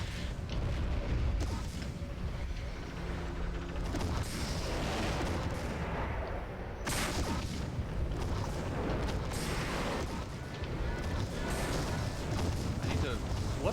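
Weapon fire from battling mechs in MechWarrior 3 keeps up a loud, continuous barrage of blasts and booms with sharp bursts and crashes throughout, while a player talks over the din.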